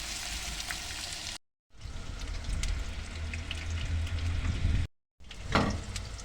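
Meat fries in a pot with garlic, pepper and onion for an okra dish, a steady close sizzle that is cut by two short silent gaps.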